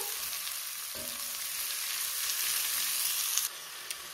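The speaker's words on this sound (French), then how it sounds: "Donc, je vais les faire revenir 5 minutes." Peppers and chicken sautéing for Basque-style chicken in a frying pan give a steady, close sizzle that holds evenly throughout, with light stirring clicks near the end.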